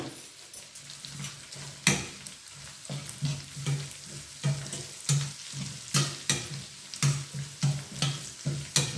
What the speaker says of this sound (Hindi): ये हमने एक अच्छा सा तड़का रेडी कर लेना है।